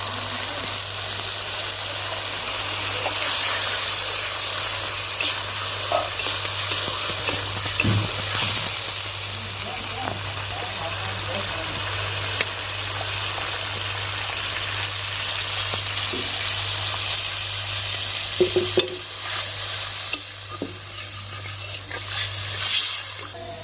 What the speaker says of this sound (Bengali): এর মধ্যে দিয়ে দিচ্ছি 1 বাটি দুধ।